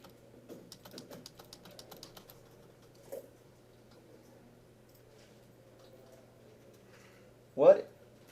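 Scattered keystrokes on computer keyboards in a classroom, a quick run of light clicks early on, then sparse isolated taps, with a brief voice burst near the end.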